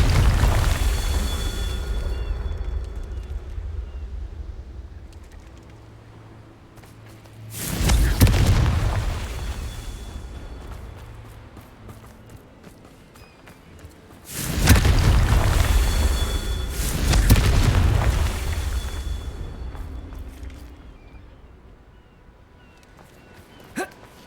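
Spell explosions from Incendio and Confringo in the game Hogwarts Legacy: three loud, deep booms, each swelling and then fading over several seconds, with no talking over them.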